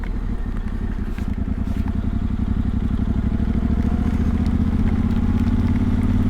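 A Yamaha T7 World Raid motorcycle engine drones loud and steady in second gear while riding through a muddy farm track, a continuous low rumble with faint clatter and no talk.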